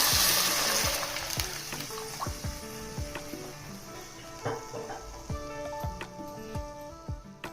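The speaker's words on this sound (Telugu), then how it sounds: "దాంట్లో వాటర్ పోసుకుందాం" Water splashes into a hot pan of fried onion and carrot for semiya upma, followed by sizzling and scattered popping and dripping as it settles.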